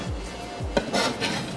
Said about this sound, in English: So you wanna mince the garlic.